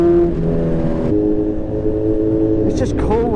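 Custom Honda Fireblade motorcycle engine held on the throttle, a steady droning, harmonic-rich engine note with a pitch shift partway through, close and loud, with someone talking over it.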